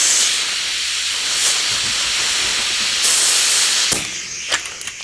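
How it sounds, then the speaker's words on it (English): An air compressor running in a home workshop while bike tyres are inflated on a 90s Trek hybrid being converted to gravel, a loud steady airy hiss throughout, with a few sharp clicks and bursts near the end. "I think the compressor kicks on just about every one of my videos since I film in the morning, mostly."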